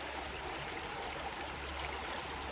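Stream water flows steadily through Zion National Park, a close, continuous rushing and babbling with no pauses.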